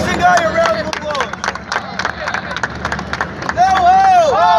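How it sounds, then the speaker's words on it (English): A street-show crowd in Times Square claps and cheers for an audience volunteer, with loud, dense applause and whoops throughout. A performer's raised voice calls out over the noise. "Give our Asian guy a round of applause."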